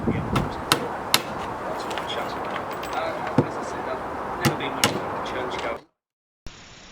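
Sharp hammer blows strike nails into a wooden ledger and brace on a simple shed door, irregularly spaced over a steady background hiss, close by, ending in a brief silence.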